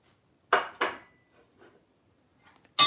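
A spoon knocks and scrapes against a pot while stirring shrimp, lentils, chickpeas and radish off the heat. A few sharp, separate clinks fall in quiet gaps, close and fairly soft.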